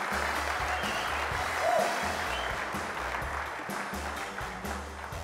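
Steady audience applause at the SolidWorks World 2013 awards for a Model Mania winner, a broad wash of many hands clapping continuously at moderate distance.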